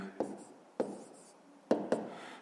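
Pen strokes on paper while working a fifth-grade fraction subtraction problem by hand: four short scratchy bursts of writing, close and fairly quiet, spaced irregularly with pauses between.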